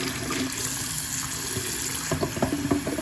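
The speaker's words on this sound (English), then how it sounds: "I'm just rinsing off my eggs now" Eggs being rinsed under a running kitchen tap, a steady close rush of water with some splashing and handling noise toward the end.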